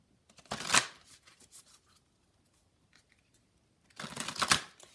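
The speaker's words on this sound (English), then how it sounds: "I'm just going to pull you a few cards now" Oracle cards shuffled for a reading, two bursts of brisk riffling and flapping at the start and end with a quiet pause between, close and crisp with no talk.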